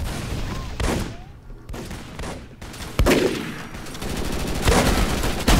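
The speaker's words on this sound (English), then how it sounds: "My sniper rifle's shooting on its own." Sniper rifle gunfire in the shooter game Microvolts: several loud, sharp shots ring out at irregular intervals, mixed with other game noise, with a dense burst toward the end.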